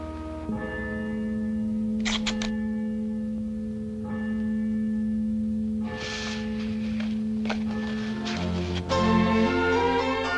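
Evening church bells ring out in slow, spaced strokes, each leaving a long humming resonance that overlaps the next, loud and sustained with no voices.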